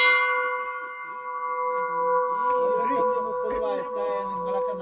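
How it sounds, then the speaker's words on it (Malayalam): A temple bell rings at Kasar Devi temple, its sustained metallic tone sounding loud and close, with a single strike at the start that fades slowly while people talk underneath. "മണിയടിച്ച് പ്രാർത്ഥിക്കാന്ന് കേട്ടില്ലേ."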